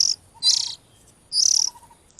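Oriental magpie-robin chicks being hand-fed give two short bursts of high, shrill chirping, separated by a pause, with no talking.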